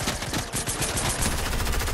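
Dense, rapid gunfire from a Fortnite battle royale match crackles continuously in loud overlapping bursts, like several weapons firing at once, with no pauses.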